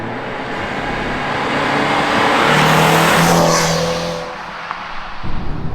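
Mercedes C300 W205 with an aftermarket downpipe, its exhaust rising in a steady loud drone as the car accelerates and passes near, then fading away with the engine note dropping off.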